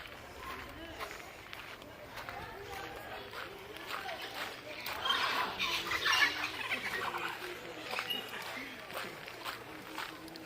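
Caged birds on a monkey and bird tour at Mahogany Bay squawk in scattered bursts, mixed with footsteps and people talking nearby.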